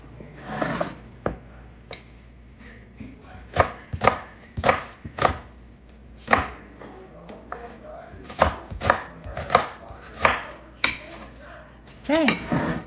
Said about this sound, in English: and then our other onion we're going to chop.